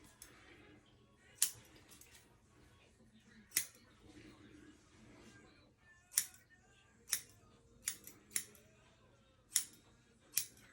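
Scissors trimming a man's hair unit of dark black hair, sharp crisp snips spaced irregularly, about eight or nine cuts, close and clear over quiet room background.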